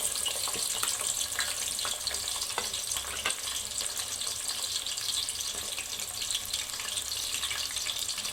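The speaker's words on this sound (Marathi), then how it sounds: "तेल गरम झालेलं आहे, आता कांदा चिरून घेतलेला आहे, आता हे टाकते मी" Chopped onion drops into hot oil in a home kitchen pan and fries with a loud, dense, continuous sizzle and crackle, steady throughout with no voices.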